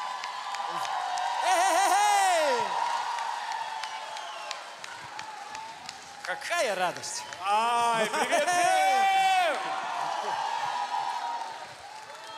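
Audience at a concert welcoming actor Sasha Petrov onstage with cheering and applause, a loud crowd roar swelling twice while a host shouts greetings over it through the PA.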